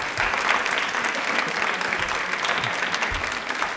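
A studio audience at a tribal heritage quiz show applauds a contestant, with dense, steady clapping that holds at an even level throughout.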